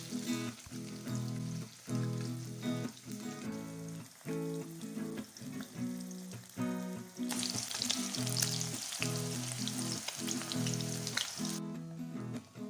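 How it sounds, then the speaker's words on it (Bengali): Paneer pieces frying in hot oil, a steady crackling sizzle that carries on throughout, with faint music underneath and a brighter, hissier stretch near the end. "পনিরগুলো আমি এখানে ভালো করে ভেজে নেব"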